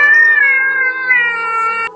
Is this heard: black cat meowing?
yes